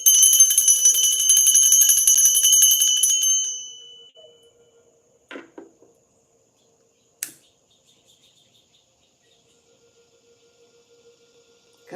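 A single bell rings with a bright, sustained metallic tone that fades out over a few seconds, followed by near silence broken by a couple of soft knocks and clicks.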